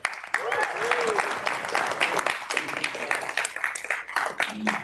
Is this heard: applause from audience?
yes